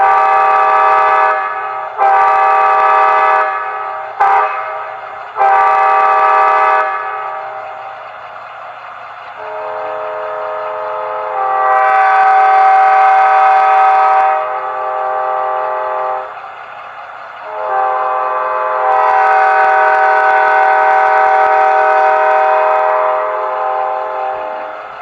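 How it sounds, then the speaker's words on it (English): Bachmann Charger model locomotive sounding its grade crossing horn pattern: several loud, harmonic blasts, two long and two short. The short blasts come first, then long sustained ones, close and clear with no talk. "Grade crossing quill."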